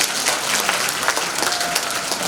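Crowd applause at a patriotic rally, loud, close and dense clapping that continues steadily across the whole moment with many individual claps showing through.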